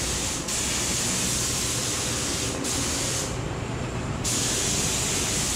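Clear coat being sprayed onto a 1964 Catalina body gives a loud, steady hiss with short breaks between passes.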